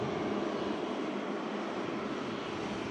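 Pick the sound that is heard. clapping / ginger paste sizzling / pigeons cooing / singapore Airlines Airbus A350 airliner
singapore Airlines Airbus A350 airliner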